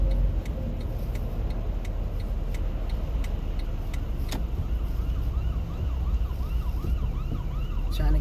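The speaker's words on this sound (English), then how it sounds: "Trying to get over for the sirens." Emergency vehicle sirens wail faintly in the distance through freeway traffic, with cyclic rising and falling tones over a steady road and car-interior rumble and no talk.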